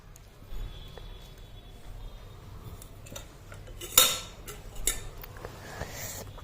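Cutlery cuts into honey cake on a plate: scattered light metallic clinks and scrapes, sharper taps in the middle, over a quiet room background.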